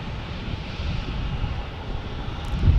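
A British Airways airliner passes at a plane-spotting site in San Diego, its engines a steady, fairly faint broadband roar mixed with wind on the microphone, building slightly louder toward the end.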